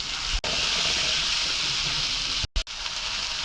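Onion, green chilies, ginger and garlic fry in a pan with a loud, steady hiss and sizzle that runs throughout, cut by two brief dropouts.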